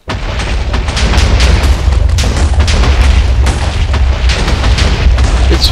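Loud, dense rumbling blasts pound continuously as fire rains down on a village in the Minecraft Thaumcraft mod, the booms overlapping into a steady roar with no pauses.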